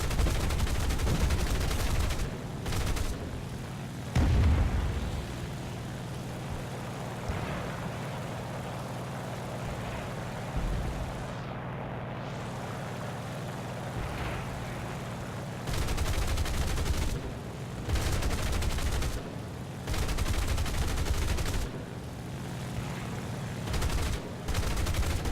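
Aircraft cannon and machine gun fire in War Thunder, aimed at a P-47 during a low-level night fight, comes as bursts of rapid shots over a steady engine drone, loudest in several clusters spread through the clip.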